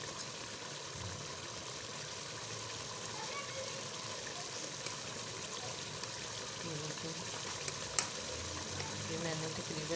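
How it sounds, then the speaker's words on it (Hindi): Yogurt goes into a pan of frying chicken legs, producing a steady, dense sizzle with wet stirring throughout and an occasional clink of the spoon. "अब इसमें हम दही डाल देंगे।"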